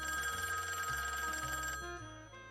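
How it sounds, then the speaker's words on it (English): An old-style telephone bell rings continuously in the video game Loco Motive, giving a bright metallic trill over low game music for a couple of seconds. "It's for you, Herman. Were you expecting a call?"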